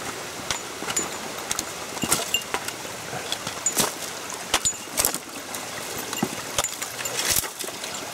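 Water runs over a rock spillway below a waterfall beside an abandoned farm road in Japan: a steady background rush broken by scattered clinks and scuffs close by, with no talking.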